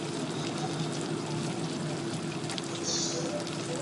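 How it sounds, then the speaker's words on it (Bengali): Raw mangoes going into a simmering fish curry, heard as a dense, steady wet sizzle and bubbling with a brief splashy rustle near the end, close and continuous. "এবারে কাঁচা আমগুলোকে এবারে দিয়ে দেবো।"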